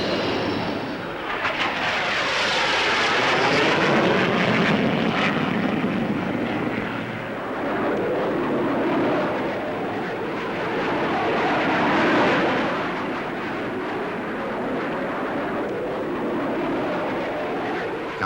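A jet aircraft gives a flying demonstration at the 1950s Farnborough Airshow, its loud broad engine roar swelling and fading as it makes passes overhead, with a long, continuous rushing whine and no voices.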